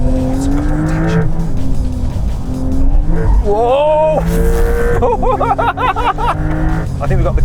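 Porsche 911 with carbon ceramic brakes driven hard through a tight section of a race circuit, its engine note rising and falling under a loud continuous roar with brief tyre squeal, while an excited voice exclaims over it.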